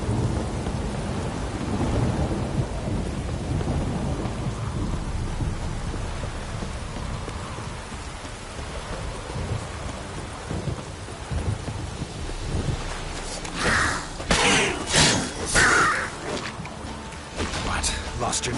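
Steady rain with deep rumbles of thunder rolling underneath in the video game The Witcher 3, growing louder near the end, with voices speaking over the storm.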